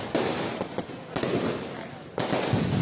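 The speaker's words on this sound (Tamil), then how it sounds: "வெடிலாம் கொஞ்சம் நிறைய வெடிக்கிறாங்கல்ல," Firecrackers burst in quick succession with a few sharp pops and louder cracks, crowded together over a busy, noisy background.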